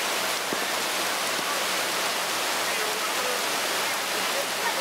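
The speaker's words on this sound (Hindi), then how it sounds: "यहाँ पे बारिश हो रही है" Rain pours steadily at the Saigon water bus, a dense, even hiss of falling water that stays loud and constant throughout.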